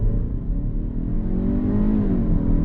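A 2022 Kia Stinger GT-Line in sport mode pulls away from a stop, engine note climbing steadily in pitch as revs build under load, heard from inside the cabin, close and continuous with no speech.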